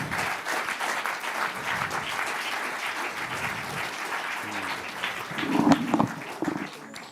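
Steady audience applause fills a conference hall at a regional cooperatives congress, dense and sustained for several seconds, with some brief louder bumps and murmur toward the end.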